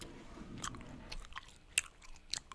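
Gum being chewed right up against the microphone, heard as faint, irregular wet smacks and clicky bites. A few sharper snaps stand out, with no talking over them.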